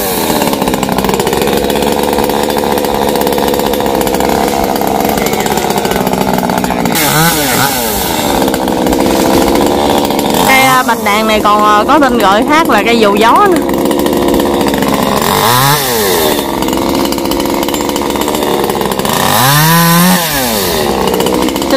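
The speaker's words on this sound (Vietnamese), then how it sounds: "ba của Hoa sẽ cưa hạ cây bạch đàn này như thế nào nha" A chainsaw cuts into a large eucalyptus tree with rain-wet bark in a cramped spot, its engine droning loud and steady throughout while a person talks over it at times.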